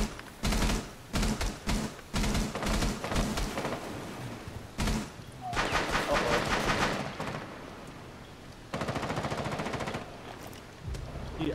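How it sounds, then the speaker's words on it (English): Rapid bursts of automatic gunfire strike a player's shield in a shooter video game, loud clattering volleys in several clusters with short pauses between, no talk over them. "they're shooting at my shield"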